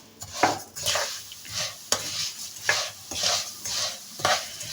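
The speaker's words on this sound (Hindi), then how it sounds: "अब हम इसमें डाल देते हैं ये 1 कप सवैयों का, जिनको हमने अच्छी तरह भून लेना है" A cup of vermicelli roasting in oil with cardamom, stirred with a spoon in a pan: rhythmic scraping strokes about every half second over a soft, steady sizzle.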